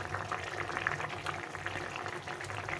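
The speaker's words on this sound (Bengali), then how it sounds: "এই দিয়ে ঝোলটা রান্না করছি" Fish curry with ridge gourd, pointed gourd and potato simmering in a pot, a steady soft bubbling and boiling that is faint and continuous throughout.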